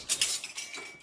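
Metal spoon lifted from a set of kitchen utensils, giving a few quick bright clinks and light metallic rattles close by, with no talk over it.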